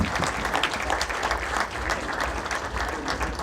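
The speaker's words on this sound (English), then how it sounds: "Big round of applause, everybody." Steady, full applause from a large audience at a Sikh American Chamber of Commerce gala, dense clapping that holds evenly throughout.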